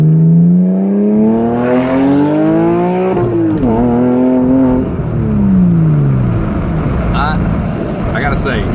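A Porsche Cayman S engine revs loudly while driving, its pitch rising steadily through a gear, dropping at a shift, then climbing again before easing off, with people talking over it.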